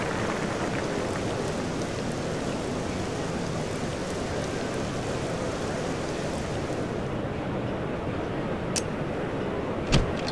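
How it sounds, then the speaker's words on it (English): Heavy rain pours down on a cricket ground in a cricket video game in a steady, unbroken hiss that fills the whole scene, with no voices, only a couple of faint ticks near the end. "The rain beginning to pour down."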